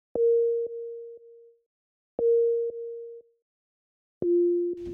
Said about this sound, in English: a quick sampler in Logic that has the default patch enabled, which is just a sine wave